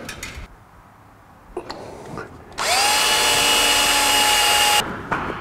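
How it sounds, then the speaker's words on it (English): A rotary hammer bores into a concrete ceiling in a shop, a loud steady grinding whine held for about two seconds after faint handling noises, then cutting off abruptly. "This is a rotary hammer. It's like a hammer drill on steroids."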